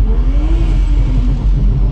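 A C6 Corvette engine growls loudly and close up, rising briefly in a steady rev with a deep rumble and no voices.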